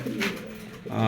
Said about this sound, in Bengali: দর্শক এখানে দেখতে পাচ্ছেন একজোড়া শ্যাডোমা কবুতর